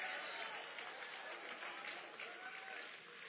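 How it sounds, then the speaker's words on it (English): A crowd at an evening event breaks into sustained applause, steady dense clapping that fills the room and tapers slightly toward the end. "a huge round of applause"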